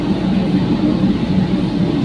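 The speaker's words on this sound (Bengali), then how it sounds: "এটা হলো মেট্রো" Kolkata Metro train running, a steady low rumble and roar heard from inside the carriage, constant and fairly loud, with no talk.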